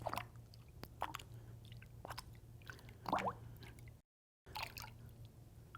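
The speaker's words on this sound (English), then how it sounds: "I'm just going to take this eyepiece and kind of swoosh it around in the water." A telescope eyepiece swished and dunked in a container of water for cleaning, giving a few soft liquid splashes and drips up close over a steady low hum, with a brief gap near the end.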